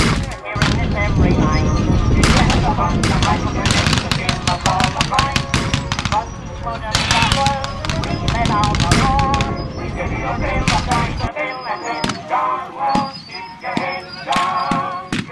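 Gunfire at a WW1 battle reenactment: loud, dense bursts of rapid machine-gun fire and scattered rifle shots crackle almost without a break, thinning to sparser, more distant shots toward the end.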